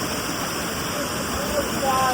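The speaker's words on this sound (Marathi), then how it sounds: "आणि धबधबा बघा कसला कडक आहे बघा." A waterfall at Raigad fort roars as a steady, dense rush of falling water that stays close and fills the whole moment without a break.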